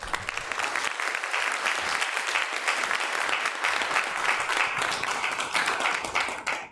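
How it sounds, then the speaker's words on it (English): A school-event audience gives steady, sustained applause welcoming the Tendo High School Dance Team at a youth summit opening in Yamagata, dense clapping filling the room throughout before tapering off at the very end. "Let's welcome them with a big round of applause."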